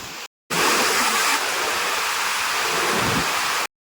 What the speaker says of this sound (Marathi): पाऊस बघ कसला आलाय खतरनाक